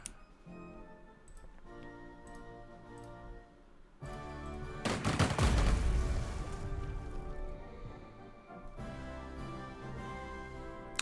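Gunfire from units in the strategy game Strategic Mind: Spirit of Liberty, a burst of loud cracking shots peaking mid-clip over steady game music, with scattered ticking reports before and after.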